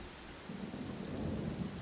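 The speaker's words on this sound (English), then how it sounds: "Man, this thunder is loud." Loud rumbling thunder in the Genshin Impact video game, a low steady roll that swells over about two seconds, with a rain-like hiss and no talking.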